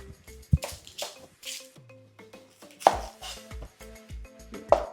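A knife chopping onions, garlic and other vegetables on a board while preparing chicken biryani, sharp irregular taps close up, with small wet squishes between cuts.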